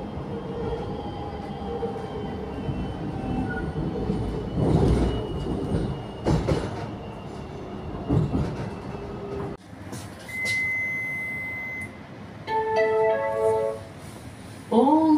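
An X'Trapolis train rumbles along the track with rattling and occasional squealing wheels, then slows into its terminating station at Syndal, ending with electronic chimes and beeps.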